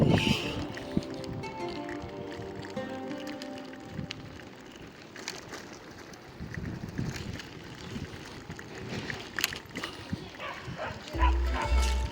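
Dogs bark and yip intermittently while playing outdoors, with a person talking over the commotion and some wind noise.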